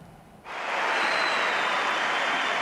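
Loud, dense applause swells in after a brief quieter moment and holds steady, a large crowd giving a standing ovation at a tennis court, clapping continuously.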